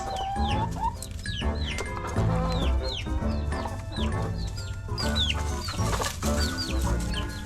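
Leghorn and barred rock hens cluck and chatter in a backyard flock, with repeated rising calls and overlapping clucks close by and a busy, continuous farmyard bustle.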